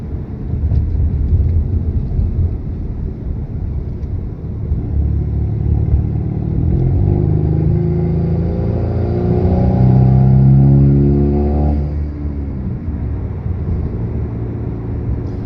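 A 2017 Chevrolet Camaro with a turbocharged four-cylinder engine pulls under light throttle on a street, its steady droning engine note rising through gears with a swelling climb near the middle, heard from inside the car.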